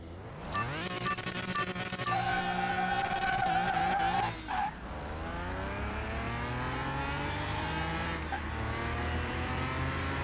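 Video game Ferrari F50 engine roars at high revs on a drag strip, climbing through gears, then tires screech briefly before the motor settles into a steady, slightly rising drone.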